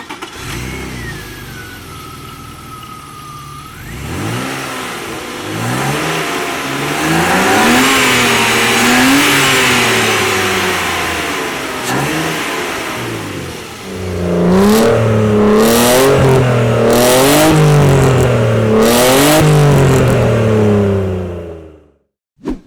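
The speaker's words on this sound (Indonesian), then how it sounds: "Kita nyalain mesinnya ya." A BMW 325i Coupe starts: a short starter crank, then the engine catches and settles into a rough idle before being blipped through several rising and falling revs, loud and close, with a harder, sustained rev burst near the end.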